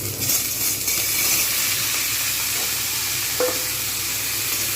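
Vegetables for a red amaranth leaf chorchori frying in a pan over browned onions, a steady close sizzle and hiss with occasional stirring knocks, no voices.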